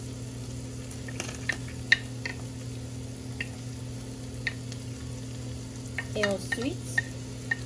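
Chives, parsley, onion and green pepper sizzle steadily in a pan while a utensil stirs them, giving soft scrapes and clicks over the constant frying hiss; a voice briefly speaks at the start.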